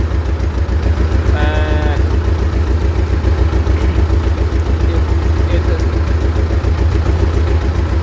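A T16m tractor engine runs steadily while driving, a loud, close, even low throb with a constant rhythmic pulse and mechanical clatter throughout, and a brief squeak near the start.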